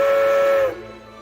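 A steam locomotive's whistle blows loud and steady, then cuts off abruptly, leaving a low hiss and rumble fading behind it.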